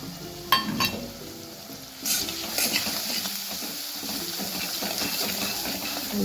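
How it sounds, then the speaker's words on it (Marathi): A spoonful of red chilli and spices frying in hot oil, a steady sizzling hiss with a couple of clinks early on and a surge of spitting as ingredients drop in, moderately loud and close. "1 चमचा लाल मिरची टाकून घेऊ आणि मसाले टाकू."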